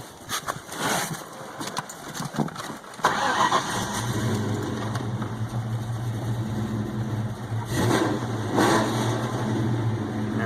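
A cold supercharged 4.6 V8 Mustang GT with Trick Flow cams cranks and catches, then settles into a steady, throaty idle with a couple of brief revs, close by.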